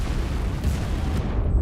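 Heavy, continuous rumbling explosions and concussive bombing in a co-op war video game, a dense low booming wash that stays loud throughout with no talk over it.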